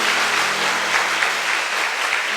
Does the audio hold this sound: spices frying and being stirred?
no